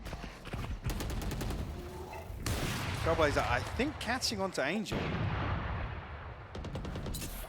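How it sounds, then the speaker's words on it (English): Operator sniper rifle shots in Valorant during a NAVI vs DRX Champions esports match: sharp, sudden single cracks at the start and end, heard amid casters' fast commentary and game effects. "you hear 2 shots of the op rattle off"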